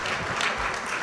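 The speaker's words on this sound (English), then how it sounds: "I can give a round of applause for everybody who's here" Dense, steady applause from a roomful of guests at a California Contract Cities Association installation dinner, a warm continuous wash of clapping with no gaps.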